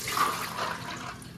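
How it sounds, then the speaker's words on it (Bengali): Water pours and splashes steadily as salted, soaked chana dal is drained for homemade crispy dal bhaja, a continuous close running-water wash with no pauses. "দিয়ে এখন আমি জল ঝরিয়ে নিচ্ছি"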